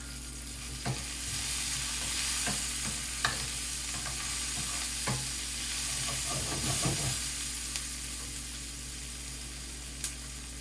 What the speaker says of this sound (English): Let the onion get a little bit soft before we add other ingredients to it.